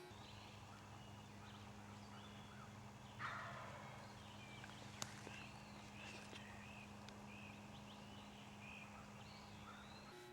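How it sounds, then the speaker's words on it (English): A wild turkey tom gobbles once at a distance, a faint rattling call in a quiet outdoor hunting setting with a low steady hum beneath. "The Tom was gobbling his head off"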